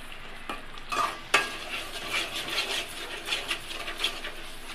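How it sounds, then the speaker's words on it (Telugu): Chicken curry gravy sizzles in a pan while being stirred, a soft continuous frying hiss broken by repeated scraping strokes of a spoon and a sharp knock against the pan early on; close and quiet. "నూనె పైకి వచ్చేంత వరకు ఇలా కలుపుకోవాలి."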